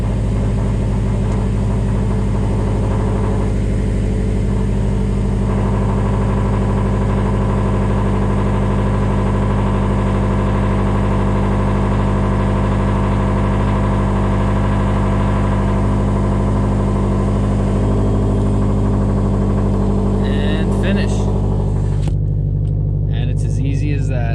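A Subaru STI's engine runs at a steady idle, a loud, even low hum with stable tonal bands lasting the whole stretch before easing off near the end; no talk is heard over it.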